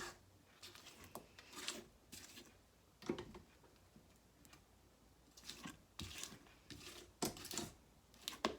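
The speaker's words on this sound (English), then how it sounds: "I'm gonna scrape the bowl with my spatula just to make sure there's no cream cheese hanging" Spatula scraping cream cheese batter from a mixing bowl, a series of soft, quiet rubbing and scraping strokes in an uneven rhythm, close up.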